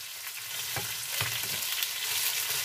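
A fish fillet fries in a pan with a steady, dense sizzle, broken by a few brief stirring or scraping sounds; no one speaks.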